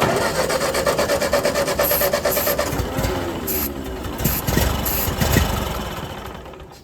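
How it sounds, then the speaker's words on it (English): A Ford 8N tractor engine with a bad carburetor cranks and sputters unevenly, with a steady rasping, rubbing drone and irregular chugs, loud and close without talk. "Try it again. Crank it up again."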